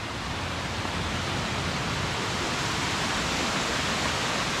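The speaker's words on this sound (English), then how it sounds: "not even 12 minutes to get to this first waterfall" A waterfall on a hiking trail roars as a steady, broadband wash of falling water, constant and fairly loud with no other sounds standing out.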